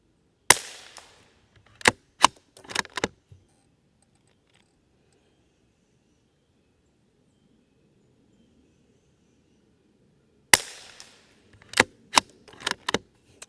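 Savage B22 Thumbhole Timberlite rifle firing SK Rifle Match ammunition, two strings of sharp, close, loud shots a few seconds apart, each string a single report followed by three or four quicker cracks, with quiet in between.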